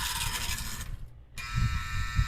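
Loud, busy mechanical clattering from a model locomotive's mechanism with a brief drop in the middle, then a steady rattling clack with bursts of low thumps, close by.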